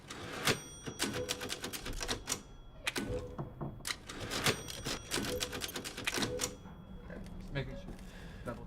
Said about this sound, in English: Typewriter.